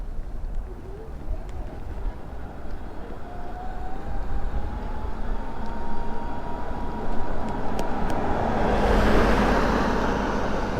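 A Fiido D11 electric bike climbs a hill on throttle power alone, and its motor gives a faint, slowly rising whine. The whine sits under a broad outdoor rumble of wind and road noise that swells toward the end.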